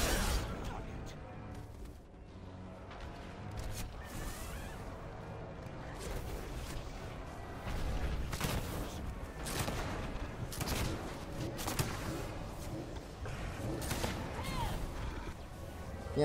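Gunfire and explosions fill a World of Warcraft: Legion battle on the Broken Shore, with repeated volleys of shots and heavy blasts crashing over continuous battle noise throughout.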